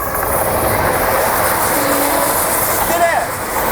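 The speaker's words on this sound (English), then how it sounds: "Actually a train." A train passes nearby with a broad, steady rumble and rushing noise, plus a brief squealing, metallic tone, under wind.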